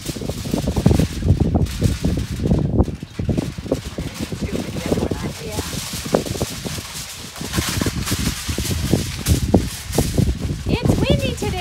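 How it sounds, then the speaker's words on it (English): Gusty wind buffets the microphone outdoors during campfire cooking, a constant rough rumble with rustling under someone talking. "It's windy today, you guys."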